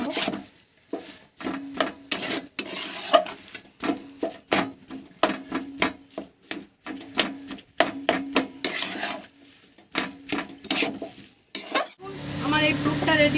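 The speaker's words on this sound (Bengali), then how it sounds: "প্রথম মাছটা আর আলুটা আমি এইভাবে নেড়ে নেবো, মশলার সঙ্গে" Fish and potato pieces stirred with spices in a pan for fish fingers, giving repeated close scraping and rubbing strokes in a steady rhythm over a light sizzle, with a brief louder frying hiss near the end.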